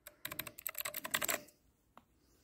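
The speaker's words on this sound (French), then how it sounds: "c'est un clavier" A budget Dierya DK63 mechanical keyboard clatters through a quick, dense burst of keystrokes, then goes quiet before one last isolated key click, close and clear.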